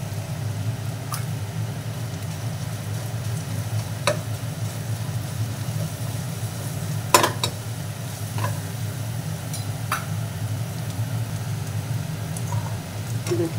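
Chopped onion and garlic fry in a pan with a steady, moderate sizzle and a few sharp ticks and clicks from stirring, nearby and with no one talking.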